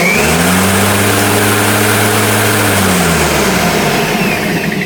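A freshly reassembled small lawn mower engine roars loudly and steadily for a few seconds, then its pitch drops as it winds down.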